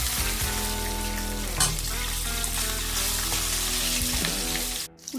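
Onions frying in hot oil with masala spices for biryani, a steady close sizzle with light stirring throughout, ending with a brief clatter.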